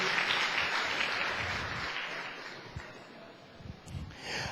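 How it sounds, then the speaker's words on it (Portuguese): Round of applause from a church audience during a sermon, a dense wash of clapping that starts strong and gradually thins out, with some rustling and a faint voice toward the end. "Uma salva de palmas"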